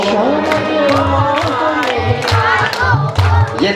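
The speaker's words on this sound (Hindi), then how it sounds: "दोनों हाथ ताली बजाओ" Seated audience at a Bhagwat Katha gathering claps with both hands, a dense, loud, continuous patter mixed with singing and crowd noise.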